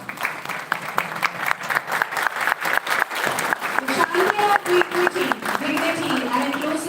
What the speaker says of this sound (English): One big round of applause, my students